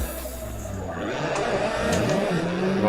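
An Assetto Corsa drift car slides with a rising engine drone and scrabbling tire noise, and a couple of sharp crashing bursts suggest a collision during the slide, loud and continuous with no voices.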